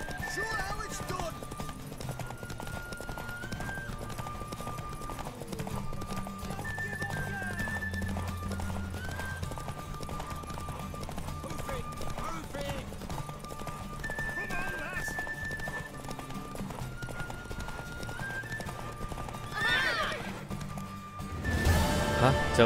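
Horse hooves clip-clop in a steady rhythm throughout in The Witcher 3, with occasional whinnies, while people talk over it and a brief crash or rustle comes near the end.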